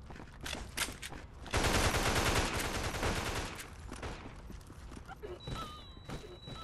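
Rapid gunfire bursts from the PS4 zombie shooter Mega Zombie, a dense sustained volley near the middle with scattered shots before and after, loud and close with a high electronic tone near the end.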